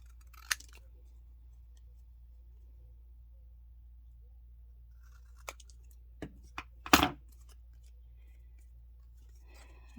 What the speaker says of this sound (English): what I'm going to do is trim this. And I'm going to trim it pretty close all the way around.